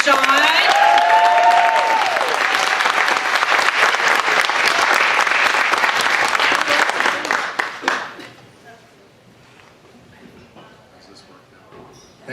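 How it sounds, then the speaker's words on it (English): Loud audience applause with cheering and whoops for a comedian welcomed on stage at a live show, dense clapping for about eight seconds before fading to scattered claps and quiet room noise. "Let's give him a big round of applause."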